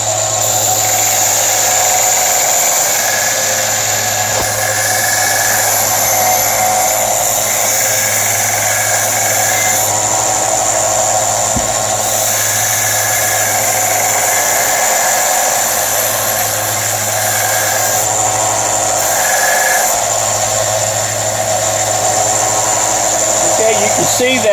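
A handheld power tool whines steadily at high pitch while smoothing the edges of a wooden snowman accessory, running almost continuously with slight pitch shifts and a few brief dips.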